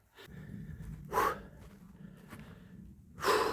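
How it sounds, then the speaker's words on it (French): Out of breath while hiking up toward an alpine pasture in early snow, a hiker pants heavily, with two loud, harsh gasping breaths standing out among quieter, rapid breathing close to the microphone. "Qu'est-ce que je suis essoufflé."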